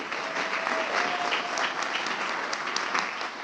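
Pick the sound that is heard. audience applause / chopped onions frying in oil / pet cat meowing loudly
audience applause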